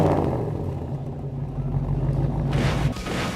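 A hot rod engine with lake pipes rumbling at idle, a deep steady throaty burble close by that rises into a brief rev near the end.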